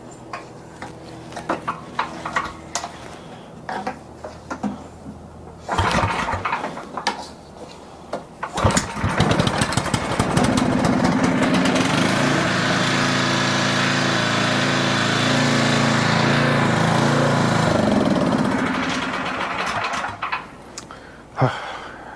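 An old generator engine on a cold day rattles through a few starting pulls, then catches and runs loud and steady nearby before dying away near the end.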